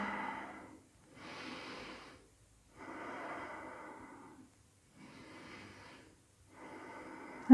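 Heavy breathing during a twisting yoga pose: five slow, deep breaths, each a soft airy exhale separated by short silences, close and clear with no talking.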